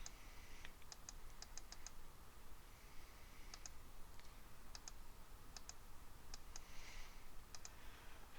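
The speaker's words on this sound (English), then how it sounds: "you can click the little calendar button and choose a date" Computer mouse clicks while picking a date from a calendar button in Crystal Reports software: short, sharp clicks in small irregular clusters, faint and close over a steady background hiss, with no talking.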